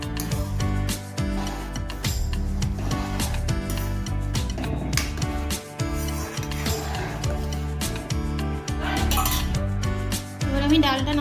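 Metal pot clanks and utensil clinks as a pot of vegetarian moong dal is lifted off the stove in a home kitchen, with repeated close, sharp rattles and scrapes.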